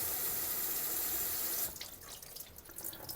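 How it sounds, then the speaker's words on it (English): Tap water runs steadily into the reservoir of a semi-hydro slipper orchid pot, a loud continuous rush for about a second and a half that then drops to softer trickling and splashing as the flow eases. "let the reservoir fill up"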